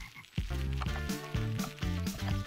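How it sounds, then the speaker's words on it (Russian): Frog croaking sound effect from the farm video game Barnyard, a series of low, throaty croaks repeating in an irregular rhythm over a steady musical game backdrop, close and fairly loud with no talking. "Лягушка квакает."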